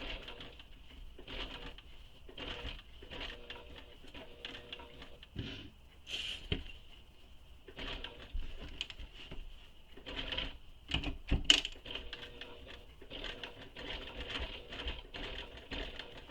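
A sewing machine stitches a crossbody bag near a twist-lock opening, running in short repeated bursts of rapid needle chatter with brief pauses between them, moderately close and with no talking.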